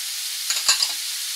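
Ground coriander, red chili powder and turmeric sizzle in a hot pan for chicken, with a steady frying hiss and a quick scrape of a stirring spoon in the middle, close and alone.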